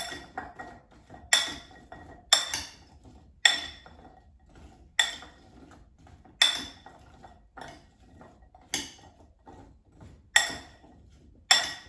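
Squash pieces being tossed with olive oil and seasonings in a metal bowl, giving a series of sharp clinks and clatters, about ten separate knocks spaced roughly a second apart, close and clear over quiet background.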